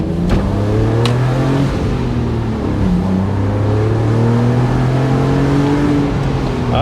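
A Porsche 987 Boxster pulls hard on a wet road, its engine note rising through the revs and then dropping back before climbing again. The sound is loud and close, with a couple of sharp clicks at the start and no talking.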